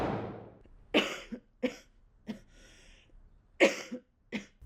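A woman coughs in several short, dry bursts spaced about a second apart, close and fairly quiet, with a throat-clearing sound among them and no talk.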